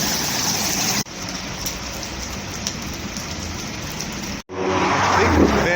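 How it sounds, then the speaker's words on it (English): A heavy hailstorm hammers down outdoors near a tennis court in Thornaby-on-Tees, a dense continuous clatter and hiss that cuts out briefly twice before resuming louder. "now it's actually a proper hailstorm"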